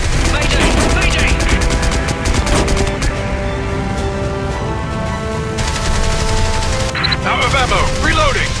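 Heavy machine-gun fire in a flight combat game: continuous rapid bursts under dense, loud game noise, with a voice calling out over the fire.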